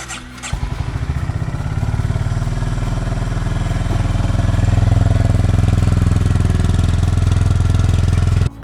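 A Honda CB350RS motorcycle engine idles close by outdoors, a steady low thumping rumble with rapid even pulses that holds for several seconds after a brief start.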